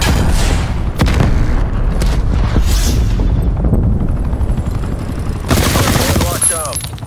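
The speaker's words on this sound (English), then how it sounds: "Engaging helicopter." Attack helicopter in Call of Duty Black Ops Cold War Hardpoint on the Moscow map, its rotor noise buried in a loud, continuous mix of automatic gunfire, explosions and battle effects.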